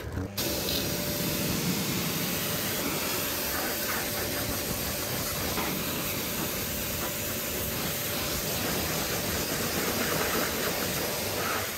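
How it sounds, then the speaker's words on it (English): A steady, loud hiss of a pressure washer spraying car wheels continuously, with no pause and a constant rushing texture throughout. "A final pressure wash finishes these wheels off."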